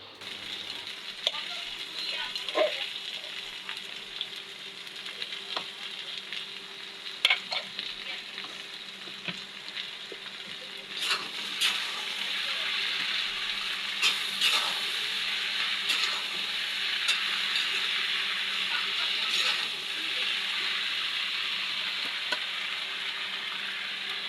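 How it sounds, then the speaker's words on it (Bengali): Boiled greens frying with onion and fish in a home kitchen pan, a continuous loud sizzle that swells partway through, with occasional stirring clinks and scrapes. "সেদ্ধ করা শাকগুলো এখন দিয়ে দিচ্ছে"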